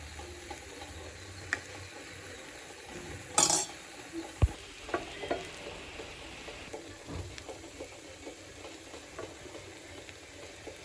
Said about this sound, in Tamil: இதை நல்லா கிண்ட போகிறோம்.